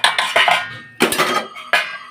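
Dishes and metal utensils clink and clatter in a household kitchen in three loud, close bursts of rattling pots, plates and cutlery, with short pauses between them.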